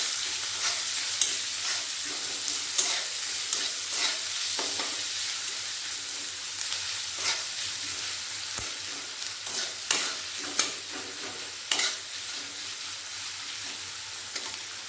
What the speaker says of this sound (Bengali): দিয়ে দেবো কুচনো পেঁয়াজ পেঁয়াজের মধ্যে দিয়ে দেবো লবণ পেঁয়াজটা ভালোভাবে ভেজে নেব